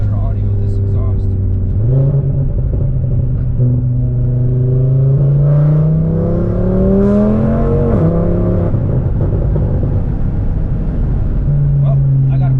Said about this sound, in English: see if we can get some better audio with this exhaust